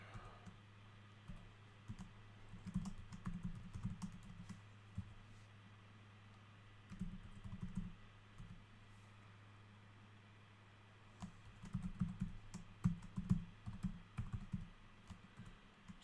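Typing on a computer keyboard, close clicking keystrokes in bursts separated by pauses, quiet overall against a low steady hum, with no talking.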